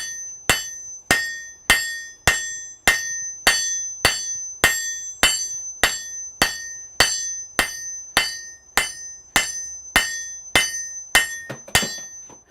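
Hot metal hammered on an anvil in a smithy, a steady run of about twenty sharp ringing blows, evenly spaced roughly every two-thirds of a second, loud and close with no talking.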